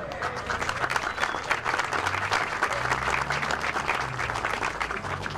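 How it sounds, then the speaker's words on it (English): A community center audience gives a sustained round of applause, with dense clapping filling the whole stretch and a few voices murmuring underneath. "So let's give them a round of applause."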